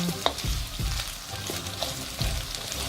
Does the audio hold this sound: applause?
no